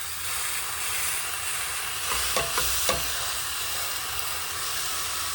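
Raw meat cooks in a hot pan with a steady, even hiss of sizzling fat, broken by a few faint clicks midway.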